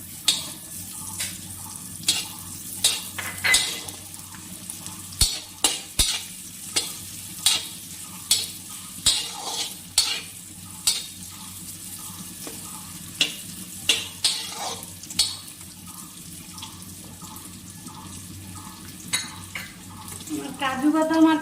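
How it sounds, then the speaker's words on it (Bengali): Cashews and raisins frying in a pan for Gobindobhog rice pulao, a steady low sizzle under repeated close scrapes and clinks of a stirring spoon against the pan, with a brief burst of bubbling near the end. "কাজু বাদাম আর কিশমিশটা ভাজা হয়ে গেছে"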